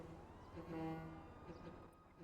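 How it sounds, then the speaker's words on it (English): Car horns honk repeatedly in GTA V on the NoPixel roleplay server, sustained tones layered beneath voices talking over the game. "Who is honking their fucking shit?"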